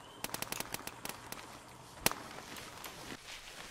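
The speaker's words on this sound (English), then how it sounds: "SMG sounds so cool." Submachine gun fire in ARMA 3 S.O.G. Prairie Fire, set in Vietnam: quick rapid bursts of sharp cracks, a louder single shot, then a few scattered distant reports, fairly faint overall.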